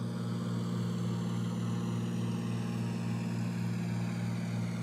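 Savoia-Marchetti SM.79 Sparviero propeller aircraft in Flight Simulator X, a steady loud drone of engines and propellers holding one even pitch throughout with no voices.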